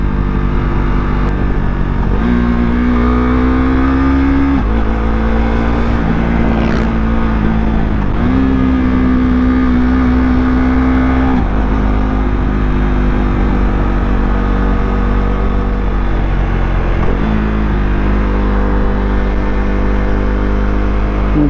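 A Kawasaki Ninja ZX6R sport bike pulls hard in second gear on the Marilaque mountain road, its engine note climbing in loud, sustained sweeps that drop back and rise again several times, with no talk over it.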